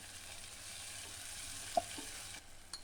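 Chopped onion, tomato and green chillies frying lightly in a pan, a faint steady sizzle with a single soft utensil tap and a few small clicks near the end.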